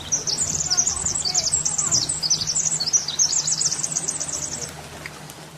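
Birds sing in quick repeated chirping phrases, bright and close, running steadily for several seconds before trailing off, with a faint low hum underneath.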